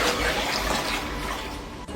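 Water gushes steadily from a tap into containers, a dense continuous rush that holds evenly for the whole stretch before a brief knock at the end.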